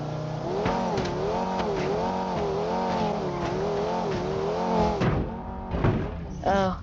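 Car in the driving game Automation running over bumps, its engine holding a steady droning note that wobbles up and down with each jolt, then a few thumps and a rising rev near the end.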